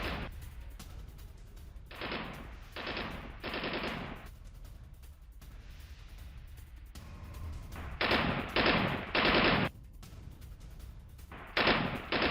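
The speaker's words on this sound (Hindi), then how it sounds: "सेना और TTP लड़ाकों के बीच आमने सामने की फायरिंग चल रही है" Gunfire from news footage of an ambush on an army convoy in the Khyber area: several sharp automatic bursts in clusters, loud and close, separated by quieter gaps.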